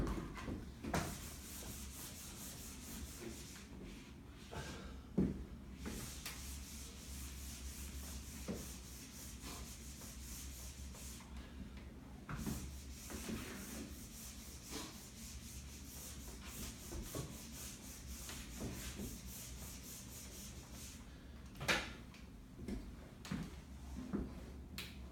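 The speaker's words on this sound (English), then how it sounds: "Let's clean the board actually." Steady dry rubbing of an eraser wiping a classroom board clean, a continuous scrubbing texture with a few sharp knocks, close and moderately quiet, no talk over it.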